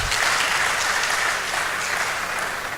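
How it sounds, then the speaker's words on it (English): Audience at a university engineering faculty lecture series applauding, a dense steady patter of many hands that holds for the whole stretch and eases slightly at the end. "Let's clap for him again"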